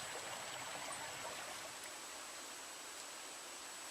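Steady, soft rush of shallow stream water being waded through while stalking deer, a continuous faint broadband wash with no voices.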